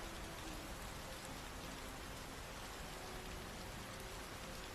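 Rain from a scene in the film Tumbbad, a continuous, even wash of rainfall on surfaces, steady and fairly quiet with no break or speech over it.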